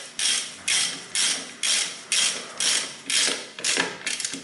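A 10mm socket on a ratchet wrench tightens bolts during a front-wheel-drive hand brake cable replacement, giving about eight close, loud, evenly spaced bursts of rapid ratchet clicking, no talking.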